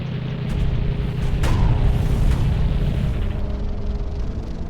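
WWI-era artillery fires in the tank-design game Sprocket, a loud, deep blast that swells into a long rolling rumble, with a sharp crack standing out partway through.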